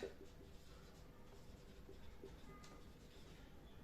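Pen or pencil writing by hand on paper while working a maths exercise, a steady close scratching that runs throughout with no talk.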